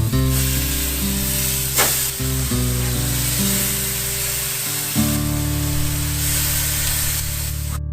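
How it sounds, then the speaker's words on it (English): Swordfish steaks sizzling on a preheated gas grill, a loud steady hiss and crackle with a sharp burst near the start, joined by a sustained tonal hum that shifts pitch. "turn on the burners and put the steaks onto a preheated grill"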